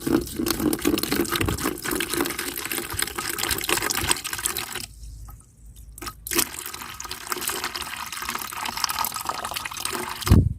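Water is filtered and poured in a steady, splashing stream that runs for several seconds, breaks off for about a second, then resumes and carries on to the end.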